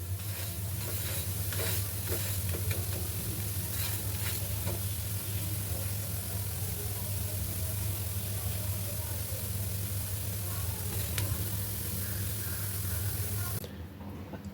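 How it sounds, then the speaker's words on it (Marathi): Spinach-stuffed paratha sizzles steadily on a hot griddle as it is roasted and flipped again and again, giving a continuous close frying hiss with faint scraping touches that stops abruptly at the end. "पालटून पालटून भाजायचं आहे"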